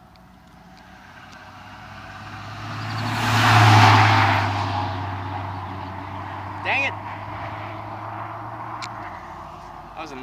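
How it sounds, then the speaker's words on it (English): A newer Dodge Ram pickup truck with air conditioning drives past on a rural road. Its engine and tyre roar swell from faint to loud, then fade away, while someone speaks briefly nearby. "That was a nice, newer Dodge Ram truck with air conditioning"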